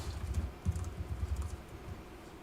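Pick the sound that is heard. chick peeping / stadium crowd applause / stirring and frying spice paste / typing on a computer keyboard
typing on a computer keyboard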